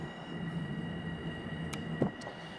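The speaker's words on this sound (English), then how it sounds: "That's the train off to Atlantic Terminal." A train bound for Atlantic Terminal runs near the Brooklyn Bridge, a faint steady distant rumble with a steady hum and a couple of brief higher clanks.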